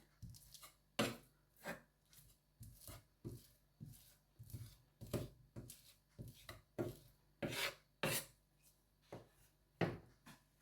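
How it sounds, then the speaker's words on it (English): A knife mushing chilli and garlic butter, rasping and scraping in quick repeated strokes at close range, with uneven rhythm and no speech. "you see with the flash of my knife, I'm just mushing it together"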